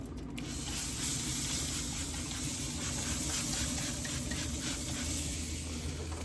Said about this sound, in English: I've got a little spray bottle. It's got apple juice.